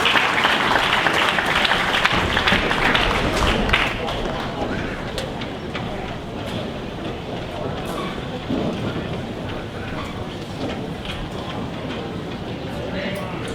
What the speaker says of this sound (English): give your past champions a round of applause.